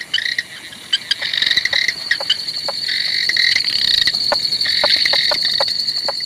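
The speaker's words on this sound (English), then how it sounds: "The bush is alive with the calls of hundreds of frogs." A dense chorus of hundreds of frogs calling at night in the bush of Kakadu, Australia, high trilling and clicking notes overlapping continuously, with insects buzzing steadily underneath.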